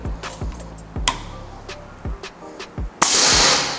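An FX Airgun air rifle fires a final test shot, a sudden loud, hissing burst of air near the end that trails off, preceded by a few faint mechanical ticks and clicks.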